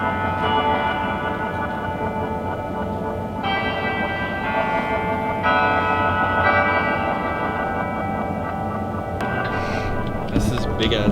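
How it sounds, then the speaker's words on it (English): A large church bell rings on and off, its sustained humming tones swelling and fading in layers over a steady background wash. "This is big ass bell."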